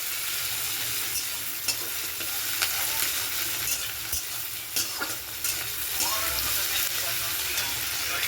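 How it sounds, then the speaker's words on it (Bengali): Onion, garlic and tomato fry with spices and dried chilli in a pan, a dense steady sizzle overlaid with scraping, stirring strokes and occasional clatter, close and fairly loud. "পেঁয়াজ রসুন টমেটো দিয়ে দিয়েছি একটু ভেজে"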